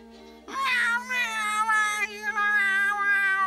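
A cartoon cat gives one long, drawn-out meow that wavers and stretches for several seconds, loud and close over a faint steady tone.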